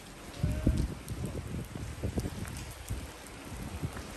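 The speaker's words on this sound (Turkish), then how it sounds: "Şöyle size hemen yağmuru da çekeyim." Steady rain falls outdoors near a busy market street, a soft continuous patter with scattered drop taps, fairly faint and alone without talk.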